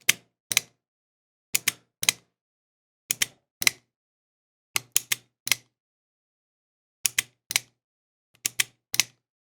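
Colt Police Positive revolver cylinder being turned by hand to check indexing, giving sharp, close mechanical clicks in quick pairs and triplets separated by short pauses, alone with no talk.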